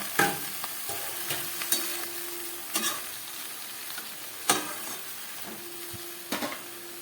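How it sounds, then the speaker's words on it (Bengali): Malabar spinach (pui shak) stir-frying with vegetables and green chili in a pan, a soft steady sizzle broken by the clatter of a spatula stirring every couple of seconds. "এবারে এই ধুয়ে রাখা পুঁই শাকটা আমি এর মধ্যে দিয়ে দিচ্ছি।"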